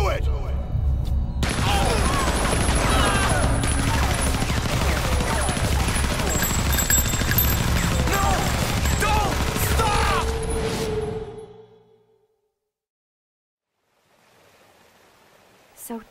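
Dense sustained gunfire from Resident Evil 0, a continuous loud fusillade under game voices for about eleven seconds, then cutting off abruptly into near silence with a faint return of ambient noise at the end.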